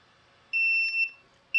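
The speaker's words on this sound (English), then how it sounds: "Audible alarm and flashing lights." Low primer alarm on a Frankford Arsenal X-10 progressive reloading press, a shrill electronic beep lasting about half a second, followed by the start of another, in a quiet room.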